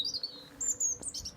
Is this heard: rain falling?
no